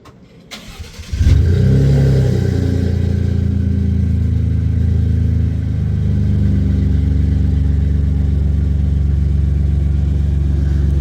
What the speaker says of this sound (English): So let's see how cold start sounds.